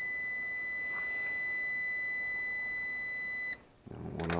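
Steady electronic continuity tone from a multimeter probing a closed end switch on a Honeywell V8043F1036 zone valve, a clean sustained beep lasting about three and a half seconds before cutting off into handling noise.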